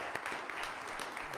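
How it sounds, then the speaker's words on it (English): Church congregation applauding new members of a Church of the Nazarene, a soft, dense wash of clapping heard from a distance for just over a second. "Let's give them a round of applause again."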